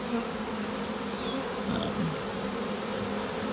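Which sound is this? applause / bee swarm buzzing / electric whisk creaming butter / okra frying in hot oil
bee swarm buzzing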